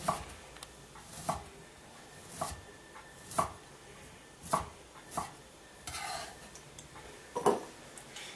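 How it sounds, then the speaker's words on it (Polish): Knife cutting cauliflower into slices on a board, a series of sharp, separate chops spaced about a second apart, close and fairly loud, with a little clatter of kitchen utensils between the cuts. "kroimy go po prostu w plastry"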